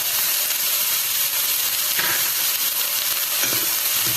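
Onions, curry leaves and slit green chillies sauté in oil for a Kerala beef roast, giving a steady close hiss and sizzle with faint stirring noises, no voices.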